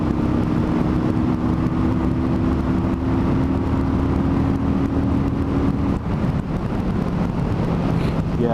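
A 2015 Kawasaki Vulcan 900 Custom motorcycle pulls through its gears, the engine drone climbing in pitch and dropping at a shift, all under loud, constant wind rush.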